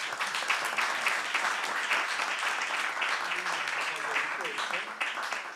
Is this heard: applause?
yes